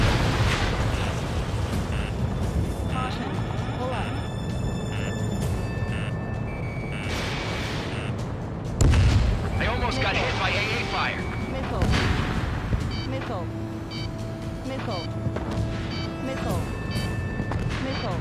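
Missile blasts and explosions in the flight combat game Ace Combat 7, with deep booming impacts and a sharp crash partway through, mixed with jet engine drone and cockpit warning tones while a voice speaks.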